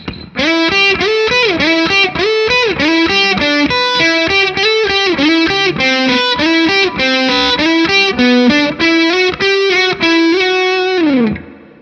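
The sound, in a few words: electric guitar riff through Veteran fuzz face style fuzz pedal, Flint reverb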